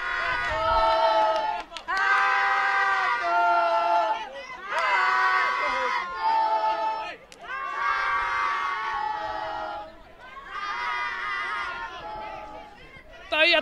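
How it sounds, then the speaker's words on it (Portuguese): The crowd at a Sergipe second-division football match, Guarany against Força Jovem, chants and shouts in loud, rhythmic waves that swell and dip repeatedly in a big open stadium. "A torcida gritando, a torcida empurrando nesses minutos finais"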